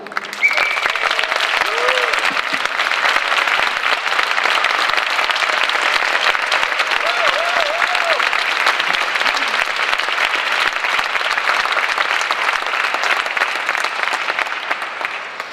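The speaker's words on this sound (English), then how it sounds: "warm round of applause for Ulrike Guérot" A conference audience in Vienna gives a long, warm round of applause to a panel speaker, dense continuous clapping holding steady for about fifteen seconds with a few faint voices beneath.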